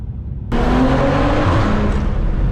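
A stage 3 tuned BMW G20 M340i bursts into hard, loud acceleration, its engine roaring steadily with rapid gear shifts, close and sustained over tire and road noise.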